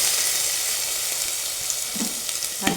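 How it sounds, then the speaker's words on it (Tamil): Onions, rampe and green chillies frying in oil in a pan, a steady dense sizzle throughout with a couple of soft scrapes from stirring near the end, close and continuous without talking. "ரம்பை, வெங்காயம், பச்சை கொச்சிக்காய் இதெல்லாம் போட்டு கொஞ்சம் கிளறிட்டு"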